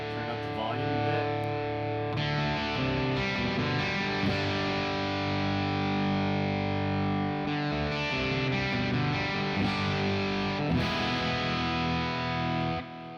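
Heavily distorted electric guitar through a Friedman BE-100 Deluxe amp into an Ox Box with a UK Vintage 30 cab simulation, playing loud, sustained chords and riffs, thick and continuous from start to finish.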